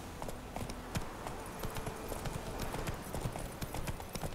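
Horse hooves gallop in The Witcher 3 video game, a quick, steady clip-clop rhythm running the whole time at a moderate level, with soft game ambience underneath.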